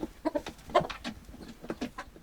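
Farm chickens kept by a family at a mountain homestead cluck in a series of short, close calls with little gaps between them, and no talk is heard.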